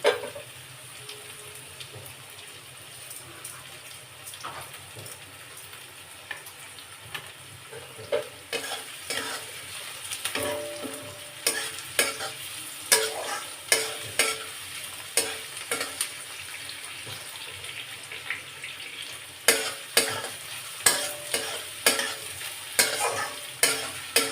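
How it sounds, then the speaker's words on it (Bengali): Onions frying in a pan with a little sugar, a constant sizzle under repeated sharp scraping strokes of a spatula that grow louder and more rhythmic over the second half, no talking. "পেঁয়াজটা ভাজা হচ্ছে বন্ধুরা, দেখতেই পাচ্ছেন।"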